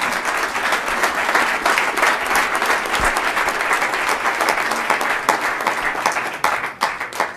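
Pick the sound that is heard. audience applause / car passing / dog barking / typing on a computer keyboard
audience applause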